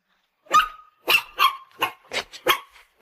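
A puppy barks in a run of about seven sharp, high yips at an uneven rhythm. Each bark is loud and close, with silence between them and no talk.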